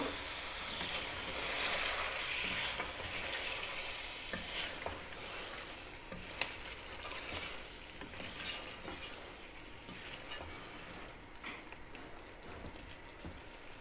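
Chicken curry (desi murgh salan) sizzling steadily in a pan as three chopped tomatoes are stirred in, a dense frying hiss with occasional scraping clicks of the spoon, close and continuous without speech.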